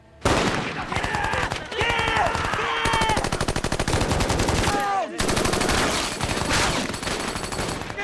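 Sustained machine-gun fire in a WWII war film battle scene, with loud, rapid bursts that roll on almost without pause and a short break midway, dense and close.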